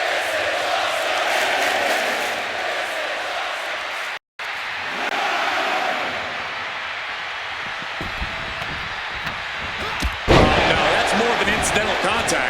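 In the WWE 2K26 wrestling video game, a wrestler is slammed through a reinforced announce table, with a heavy crash and rumbling impact under a roaring arena crowd, a brief dropout, then another loud hit and commentary voices.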